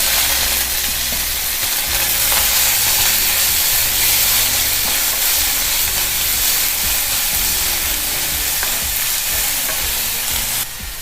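Steady, loud sizzling of green chillies, onion and carrot sautéing in hot oil with occasional stirring scrapes, continuous throughout with no voices.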